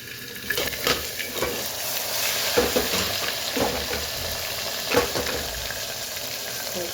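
Mustard seeds, cumin, hing and tomatoes fry in hot oil in a pan, crackling and sizzling close by, with several stirring scrapes and knocks scattered through.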